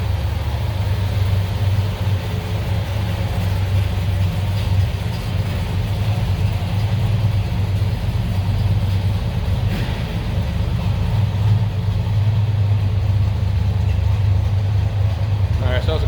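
A 1970 Chevrolet Chevelle SS 396 engine idles steadily after a cold start, a low rumbling burble with a slightly uneven lope, close and continuous throughout.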